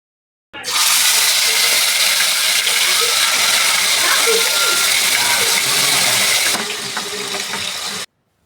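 Tempering for green chicken hits a hot pan, bursting into a loud, sustained hiss and crackle that holds for several seconds and then drops off sharply.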